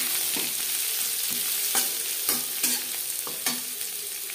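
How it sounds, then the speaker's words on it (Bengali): Chopped onions, three medium ones cut fairly large, frying in two spoons of refined oil for chicken patties, a steady loud sizzle broken by repeated scraping stirs at irregular intervals, close up, with no voices. "এবার দিয়ে দেব পেঁয়াজ কুচি।"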